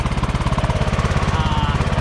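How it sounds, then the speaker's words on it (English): Craftsman YS 4500 riding lawn mower engine running close and loud, a rapid even chugging pulse of small single-cylinder firing that holds steady throughout. "I need to take the old Craftsman YS 4500 out for a couple laps around the property here"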